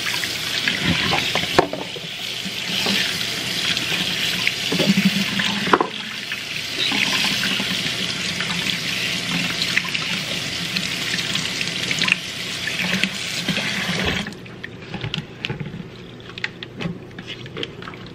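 Tap water runs steadily into a sink while makeup brushes are rinsed clean, a loud, continuous splashing gush that stops abruptly near the end, leaving quieter drips and handling sounds.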